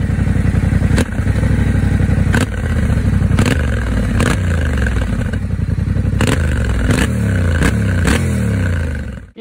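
A 270-degree parallel twin motorcycle engine exhaust rumbles loudly and continuously, with a deep throbbing firing pulse, near and alone, with sharp clattering transients every second or so and slight revving swells.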